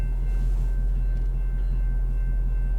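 A steady low rumble of a passing Boston T light rail train fills the clip, continuous and fairly loud, with faint squealing overtones above the drone.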